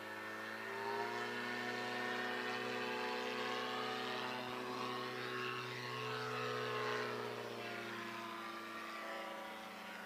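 STOL airplane taking off during a short-takeoff competition at the Valdez air show: a steady, loud propeller engine drone with strong harmonic buzz, sustained throughout at close range.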